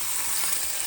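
A brief, loud, even hiss comes from pork sauerbraten searing in a hot pan, with fat sizzling close up and no voices.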